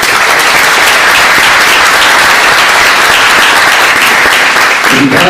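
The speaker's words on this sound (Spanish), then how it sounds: "Demos entonces un aplauso a Beatriz." A loud, steady roar of audience applause at a forum on violence, feminism and women's rights fills the whole stretch, with dense clapping that barely varies until a slight easing at the very end.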